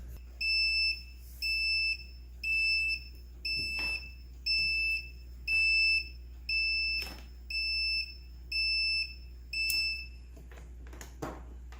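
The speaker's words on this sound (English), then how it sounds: "the machine will turn off and beep for what seems like forever." A Tayama DJ-15S stainless steel soy milk maker beeps on finishing in a steady repeating pattern, about ten loud high-pitched tones spaced evenly, with a low hum underneath.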